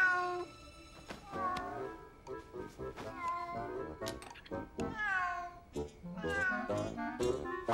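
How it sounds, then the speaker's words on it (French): A cat meows repeatedly at night, with a string of loud, drawn-out cries arriving one after another at close range and only brief gaps between them. "Impossible de dormir avec ces satanés miaulements."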